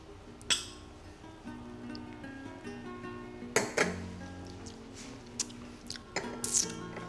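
Glasses of Cornish vodka clink together in a toast, with several sharp, bright chinks at scattered moments over a steady background of low hum and mixed chatter.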